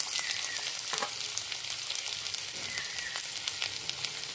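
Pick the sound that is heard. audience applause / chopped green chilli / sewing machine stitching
chopped green chilli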